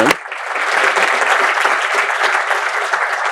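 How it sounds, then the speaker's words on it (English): Steady round of applause from the audience at a business finance event, a dense crowd of clapping hands starting abruptly and holding loud and even throughout, with no talking over it. "Can I get a round of applause"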